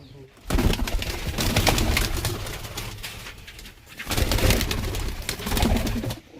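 Laldum and Kaldum pigeons coo loudly and close by in a loft, two dense bursts of throaty cooing split by a short lull, with some rustling underneath.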